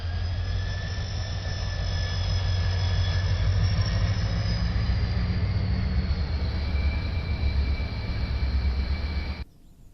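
A down locomotive passing through Hoo Junction, a loud sustained low engine drone with steady whining tones that holds for several seconds and then cuts off abruptly.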